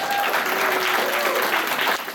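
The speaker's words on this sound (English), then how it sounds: "So give Funimation a round of applause, guys." Audience at a PortConMaine 2019 anime convention game-show panel applauds steadily, a dense, even wash of clapping that holds loud for the whole stretch before easing slightly at the end.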